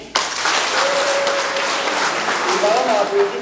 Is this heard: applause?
yes